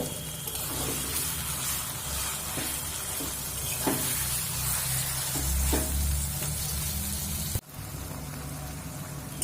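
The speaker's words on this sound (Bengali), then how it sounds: "চিকেনটা দিয়ে দেব আর লো ফ্লেম করে পাঁচ মিনিট মতো রান্না করে নেব" Marinated chicken mince frying in a pan on a low flame gives a steady, even sizzle with occasional stirring scrapes, continuing throughout and cutting off briefly near the end.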